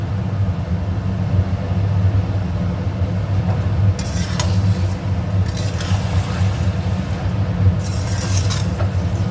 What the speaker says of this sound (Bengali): এবার চালটার সাথে মশলাটা ওই দু তিন মিনিট ভালো করে একটু কষিয়ে নেব